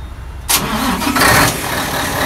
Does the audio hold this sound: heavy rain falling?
no